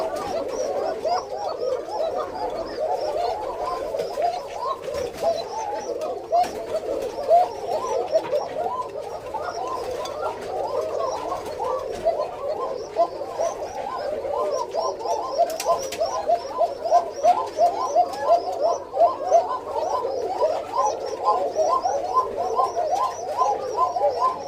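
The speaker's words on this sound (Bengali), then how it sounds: "তো এত সময় হচ্ছে আপনাদেরকে দেখানোর চেষ্টা করতেছি ডাক আর কি।" A pair of green coka pigeons, a male and a female, coo steadily and repeatedly at close range, their soft rhythmic calls overlapping throughout with no talking.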